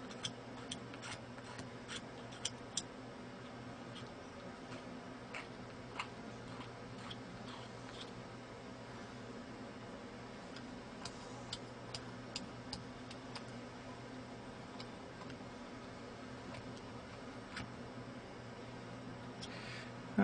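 Wax block being scraped square by hand for a maxillary right cuspid carving, heard as a steady run of faint, close ticking scrapes with small irregular clicks and no talking.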